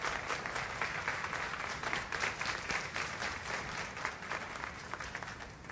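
A church congregation claps steadily through a sermon break, a dense, sustained wash of applause from a full room with no voice over it.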